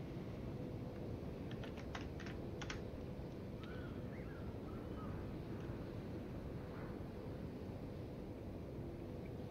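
Quick bursts of computer keyboard typing for a team chat during a naval battle game, faint clicks in two short clusters over a steady rumbling wind-and-sea background.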